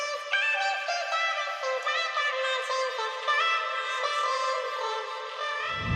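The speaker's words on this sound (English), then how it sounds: "Last but not least, I also added this 8th note delay, which is being washed out by a reverb." A fast techno synth line with distortion plays a busy, bright repeating pattern, smeared by an 8th note delay and washed in reverb, steady and loud throughout with no drums.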